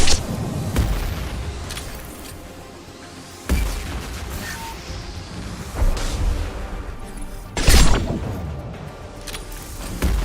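Loud booming rocket explosions from a video game firefight, with several heavy blasts spaced a few seconds apart over a constant rumbling battle background.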